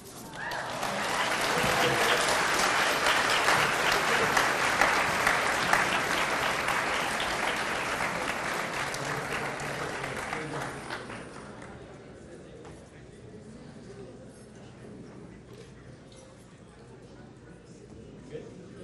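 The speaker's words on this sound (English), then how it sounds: "let's give another round of applause, Mr. Vince Bicocca." An audience at a California Wrestling Hall of Fame induction ceremony breaks into loud, sustained applause with some cheering, which fades after about ten seconds into a quieter room murmur.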